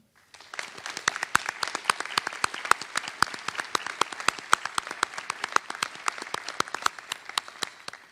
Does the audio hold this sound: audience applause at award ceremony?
yes